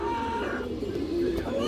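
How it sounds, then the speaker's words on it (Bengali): A young female Chuithal Kaldom pigeon coos in soft, low, drawn-out calls close by, with steady background noise. "এটা চুইঠাল কালদম মাদি বাচ্চা কবুতর"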